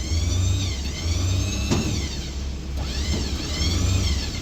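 An electric motor under the deck of a 2015 Ford F550 XL flatbed ramp truck whines steadily with a low hum, rising and falling in pitch in slow sweeps, close and fairly loud, with no talking.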